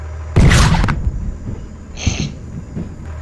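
Cannon firing in the Henry Stickmin video game, a sharp booming blast followed by a short tail and a fainter whooshing burst a moment later, with no talk.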